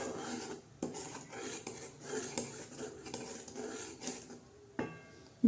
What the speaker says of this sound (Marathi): तोपर्यंत असं छान हलवायचं.